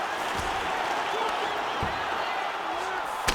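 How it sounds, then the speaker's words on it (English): Simulated arena crowd at an EA Sports UFC 5 fight roars in a steady, dense wash of cheering with scattered thuds, loud throughout. "Yeah, the crowd loves the stand-up fight."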